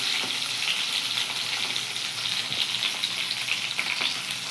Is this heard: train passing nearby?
no